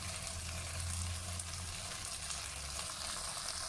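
Capsicum sautéing in a pan for tofu sambal chilli fry, a steady close sizzle and hiss with a low hum underneath, continuous and even, no voices.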